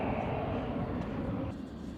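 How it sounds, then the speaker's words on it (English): A jet airplane taking off at an airport roars steadily nearby, a dense broadband rumble that eases slightly near the end. "here's jet number 3."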